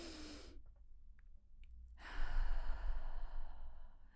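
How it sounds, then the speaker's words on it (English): A deep, slow cleansing breath during a guided meditation, a soft breathy inhale followed after a pause by a longer audible exhale, close and quiet with no speech. "So take a couple of nice, cleansing, deep, connecting breaths with me."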